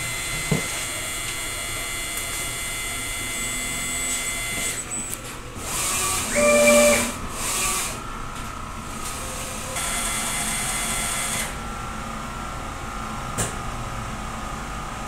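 DTF printer running a nozzle check test: a steady mechanical hum with a louder whirring pass of the print carriage in the middle, then a quieter run.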